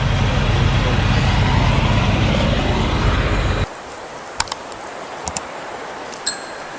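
Trucks and cars on I-80 at Donner Pass during a blizzard, a loud broad rumble of passing vehicles that cuts off suddenly, followed by quieter stretches with a few faint sharp clicks.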